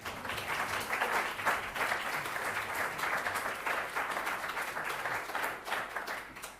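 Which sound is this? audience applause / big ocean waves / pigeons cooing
audience applause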